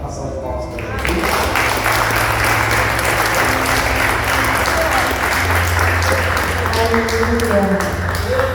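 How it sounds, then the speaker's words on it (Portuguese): Congregation clapping for Jesus during an evangelical worship service, loud continuous applause that swells after a second and holds steady, with voices and sung tones mixed in. "passar de palmas para Jesus"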